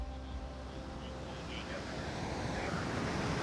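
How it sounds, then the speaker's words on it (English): Ocean waves breaking on a beach, a continuous broad hiss of surf with gentle swells rising and easing, steady and moderately quiet, mixed with light wind noise and a faint voice underneath. "Just letting the waves relax you."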